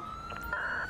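Ambulance siren from GTA 5 with LSPDFR mods, a steady electronic tone sounding briefly and fairly near, holding on a high pitch with a slight swell toward the end.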